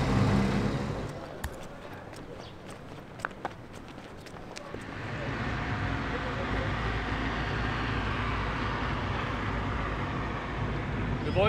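Busy city traffic in Pakistan heard from inside a police-escorted vehicle, a continuous road and engine rumble with a few sharp knocks early on, swelling louder midway and staying dense.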